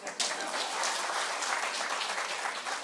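A crowd at an awards ceremony in India breaks into dense, even applause that sustains for a few seconds at moderate loudness.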